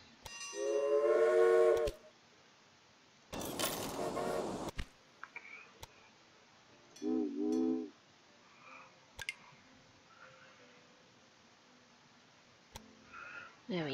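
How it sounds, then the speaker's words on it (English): A train in the railroad management game Railway Empire sounds off with a few short horn or whistle blasts, interspersed with clicks and quieter gaps, heard clearly and alone. "And a train."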